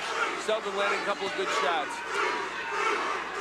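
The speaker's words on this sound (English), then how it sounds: "Crowd taking up the chant, Bruce, Bruce." A boxing arena crowd at the 1991 Oliver McCall vs Bruce Seldon fight roars and chants for Seldon, a dense, swelling wall of voices that runs steadily beneath a commentator talking over it.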